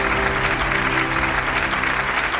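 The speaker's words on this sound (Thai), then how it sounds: "ปรบมือกับเบลครับ" A TV singing contest studio audience applauds a contestant, loud, dense clapping with a sustained musical tone humming underneath throughout.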